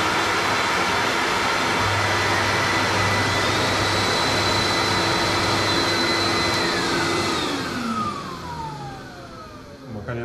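A Record Power CamVac chip extractor, a three-motor dust collector set up for a Woodmizer LT10 sawmill, runs with a loud, steady vacuum-like whine, then spins down with falling pitch near the end.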